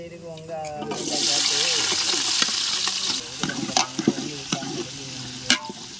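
Whole spices and onion sizzle and crackle in hot oil for a jackfruit biryani, with a loud, steady frying hiss and intermittent stirring clatter, close and prominent, under a faint background voice.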